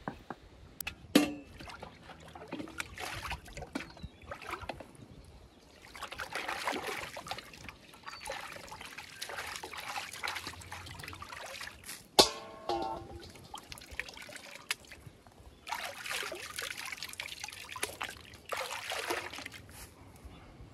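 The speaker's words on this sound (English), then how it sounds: "I have my potato smoothie here that I'm just pouring through the strainer bag" A potato smoothie is poured through a paint strainer bag while culturing a JADAM microbial solution, giving close, intermittent trickling and splashing in several bursts over about twenty seconds.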